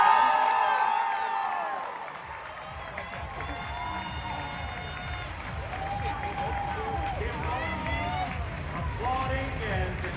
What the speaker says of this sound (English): Applauding as Anissa celebrates after going 7 overall to the Conn